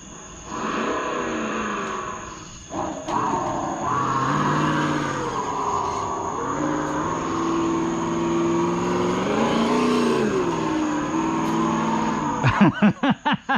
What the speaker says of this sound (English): I'm gonna have to change that engine sound.